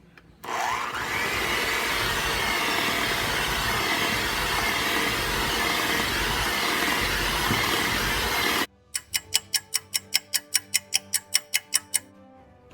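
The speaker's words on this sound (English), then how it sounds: "we're going to mix all these ingredients together on medium speed for 2 minutes" An electric mixer beats almond-flavored cupcake batter on medium speed with a loud, even whir lasting several seconds before cutting off abruptly, then a run of crisp, regular ticks follows.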